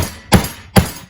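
Two sharp hammer blows strike a CR250 motorcycle wheel hub during a wheel rebuild, spaced about half a second apart, loud and close with ringing metallic decay.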